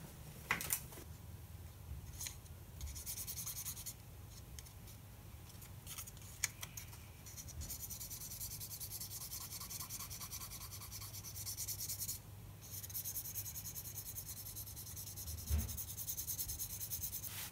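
Quiet, repeated rubbing and scratching of 1500-grit sandpaper wet sanding a plastic model car, rhythmic strokes with small pauses, close up and without talking.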